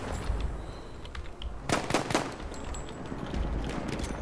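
Sniper fire in the Battlefield video game, with sharp gunshot reports and distant crackling shots scattered over a rumbling battlefield backdrop. One cluster of louder bursts comes near the middle.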